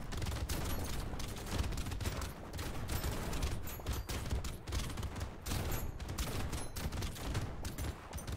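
Rocket launchers fire in dense, continuous volleys in the video game Brotato, a relentless crackling barrage of overlapping blasts and impacts throughout, with no speech.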